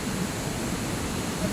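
Water falls at Wawa Dam, heard as a steady, dense rushing roar that fills the whole moment without a break.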